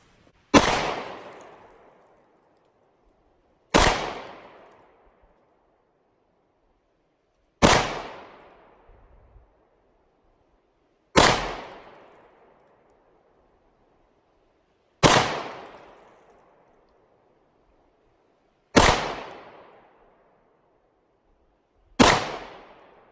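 Seven sharp Glock 43X pistol shots ring out alone at a slow, even pace about three and a half seconds apart, each a loud crack trailing off into a short echoing decay.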